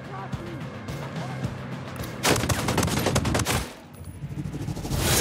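Rapid automatic weapon fire in Ghost Recon Wildlands, loud close bursts rattling in clusters with a short lull, while someone talks in German.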